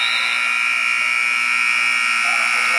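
A game clock buzzer sounds during a high school men's basketball game in a gym, a loud steady electronic drone that holds for nearly three seconds.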